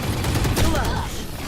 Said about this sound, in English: Let me just fire all these shots into the wall and see if something sticks, right?